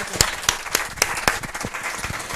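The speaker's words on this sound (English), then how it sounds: "So please, big round of applause for Rice." A small audience claps for a speaker at a founders' event, a handful of sharp, distinct claps in an irregular rhythm, close and moderately loud, thinning out toward the end.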